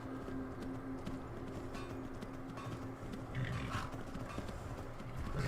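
Steady clip-clop of horse hooves trotting at a moderate pace under background music in the video game Skyrim, continuous and fairly quiet throughout.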